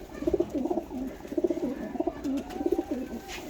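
A large pigeon coos nearby in soft, repeated rolling calls, several phrases in a row, with a quiet background.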